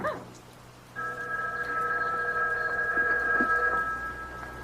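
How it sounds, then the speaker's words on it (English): A house telephone rings in a radio drama, its steady electric bell tone starting about a second in and ringing continuously, close and clear, with no talk over it. "It was the house phone."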